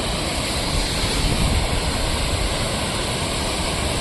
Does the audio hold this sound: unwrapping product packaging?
no